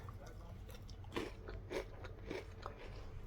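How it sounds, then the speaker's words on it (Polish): Crisp slices of bread crunched between the teeth during a meal of gizzards and a soft-boiled egg, three distinct bites close up over a low background hum, with no talking. "słyszycie, że to chrupie?"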